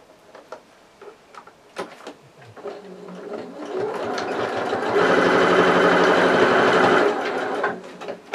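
A sewing machine stitches across the shoulder seam of a furry plush toy, starting softly after a few light taps and building to a steady close whir for several seconds before easing off.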